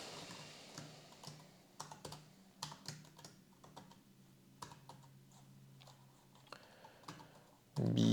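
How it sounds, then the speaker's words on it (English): Computer keyboard typing in a steady series of soft, quick clicks with irregular rhythm at close range, quiet overall, ending in a brief louder thump. "So let's type here"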